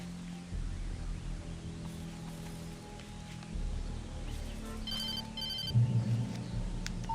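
A telephone rings in the video game Alan Wake, two short bursts of bright trilling rings over a low, steady ambient drone, moderately quiet, with no talking.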